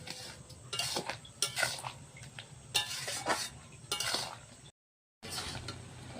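A spoon stirs jujube pickle in a pan, giving repeated scraping clinks and metallic knocks in uneven bursts, close and clear, with a brief silent gap near the end before the stirring resumes.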